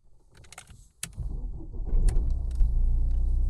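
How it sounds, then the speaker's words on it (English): A Mercedes-Benz A-Class starts up: faint clicks and a sharp key-turn tick, a brief cranking catch, then the engine settles into a steady close idle rumble that strengthens and holds, with no talking. "Start the vehicle."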